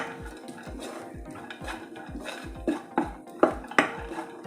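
Dry fruit pieces sautéed in ghee in a pan while making ragi ladoo: a spoon scrapes and clinks against the metal pan in a steady stirring rhythm, with a few louder knocks toward the end and a faint sizzle beneath.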